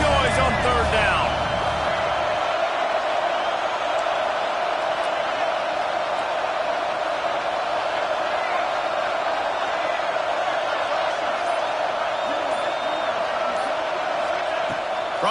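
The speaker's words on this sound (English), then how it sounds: "This dog crowd is off the leash, and they are coming after them, bringing noise on third down." Football stadium crowd roaring on a third down, a dense, sustained wall of cheering and noise that stays loud and steady throughout, with no break.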